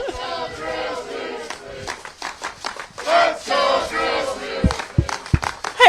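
Montana cheer team members shout and yell in chanted bursts before the Brawl of the Wild football game, loud and close, with a few sharp claps near the end and scattered crowd noise behind.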